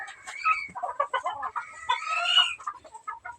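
A pure Gilmore gamefowl rooster clucks and calls up close in a steady run of throaty notes, with other fowl audible faintly in the background.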